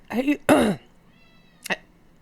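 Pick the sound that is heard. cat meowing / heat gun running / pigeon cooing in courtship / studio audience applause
cat meowing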